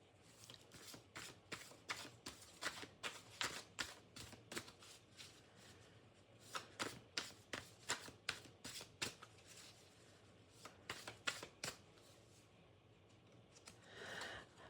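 A deck of tarot cards is shuffled again and again in quick, crisp riffling bursts with short pauses between them, heard close up with no talking.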